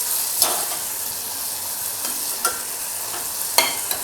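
Crushed garlic frying in a pan for brinjal thokku, a steady sizzle broken by a few distinct scrapes of a spoon stirring, close and clear with no talk.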